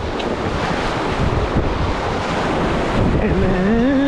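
Turbulent river rapids roar loudly and steadily around a packraft on a rainforest river, with wind buffeting the microphone throughout.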